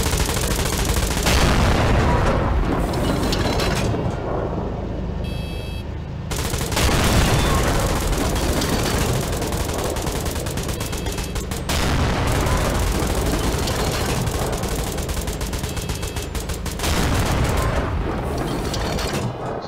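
Rapid turret gunfire in GTA 5 rattles continuously and loudly for about twenty seconds, with dense bursts and short gaps, booming impacts mixed in, and no talking.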